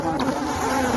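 A swarm of bees hums in a steady, continuous drone at a bus or taxi terminal, close and moderately loud throughout with no voices over it.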